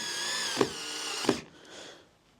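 A power drill whirs as it drives a screw into the wooden board of a sliding barn door. Its motor whine runs for over a second, broken by two sharp clicks, then slows and fades out.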